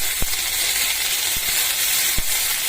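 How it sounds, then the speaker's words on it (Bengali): Boiled flat beans are stirred and lightly fried in a pan, a continuous close sizzle and hiss broken by three sharp clacks of the utensil against the pan. "আমি কিন্তু খুব সুন্দরভাবে হালকা হাতে শিমগুলোকে একটু জাস্ট নেড়ে নিচ্ছি"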